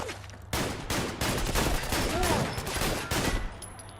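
Video game gunfire in heavy volleys, loud and continuous, with several abrupt starts and near-silent gaps between bursts.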